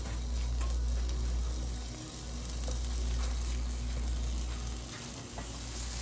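Chopped thin-cut bacon frying in a pan for a penne dish, a continuous close sizzle with crackle over a low steady hum, no speech.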